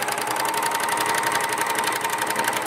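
A sewing machine runs steadily while stitching off a chain at the end of a Christmas tree napkin, a continuous close whirring hum with fast even needle rhythm and no talking.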